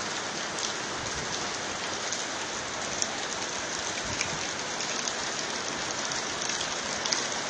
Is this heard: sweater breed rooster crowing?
no